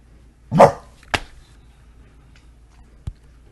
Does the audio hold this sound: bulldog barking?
yes